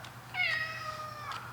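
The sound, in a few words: cat meowing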